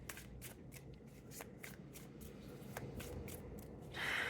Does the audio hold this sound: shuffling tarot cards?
yes